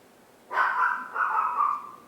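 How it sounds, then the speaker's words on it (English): A pet dog barking upstairs indoors: a couple of short, moderately loud bark bursts after a brief quiet start, with no talking. "You can hear my dog upstairs barking at whatever she's barking at."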